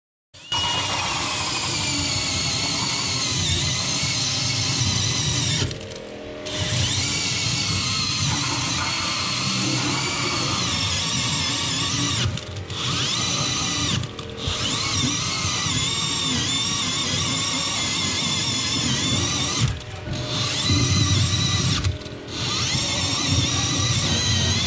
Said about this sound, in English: put it in the pilot hole that's already drilled,